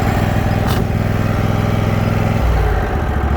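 A Cub Cadet Z-Force 48-inch commercial zero turn riding mower engine runs loud and close with a steady throbbing drone, its pitch shifting as the throttle changes partway through.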